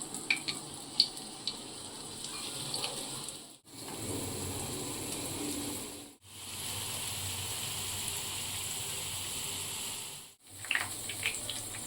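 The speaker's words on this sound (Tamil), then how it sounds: "பேனில் நிறைய எண்ணெய் ஊற்றிட்டு நம்ம இதை ஒன்று ஒன்றா வச்சிடலாம்." Veg cheese corn dogs fry in a pan of plenty of oil, giving a steady, even sizzle. Three brief gaps of silence break it, and there are a few small clicks near the start.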